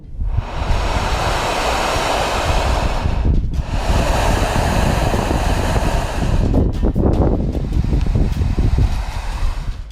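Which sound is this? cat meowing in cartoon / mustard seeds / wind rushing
wind rushing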